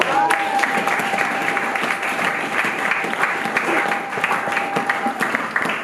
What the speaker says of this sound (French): On acclame très fort.